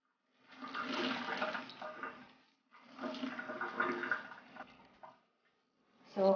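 Water splashes and trickles as boiled spinach for a Korean side dish is squeezed by hand, in two long wet bursts followed by a shorter one, close and fairly quiet with no talking.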